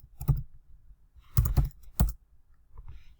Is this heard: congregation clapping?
no